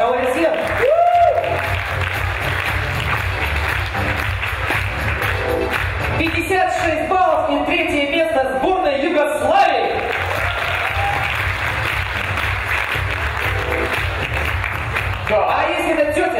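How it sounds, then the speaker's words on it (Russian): An audience at a quiz game applauds a team's placing with steady clapping throughout, mixed with a few shouts and talking voices over the noise. "Ваша аплодисмент."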